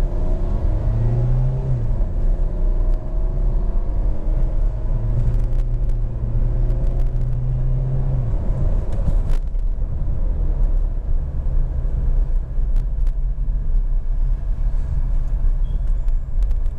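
A Renault Captur engine pulls under harder acceleration while driving, a steady loud low rumble with a rising drone early on that settles into continuous road and engine noise, with no talk.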